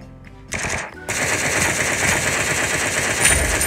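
Rapid automatic gunfire in the shooter game Sausage Man, a loud continuous burst starting after a brief opening shot and running steadily to the end.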